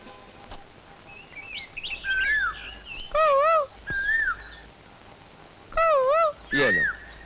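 Koel-like calls, probably a person imitating the bird, come as clear rising whistled notes repeated in short bursts with brief pauses between them, fairly close and loud against a quiet background.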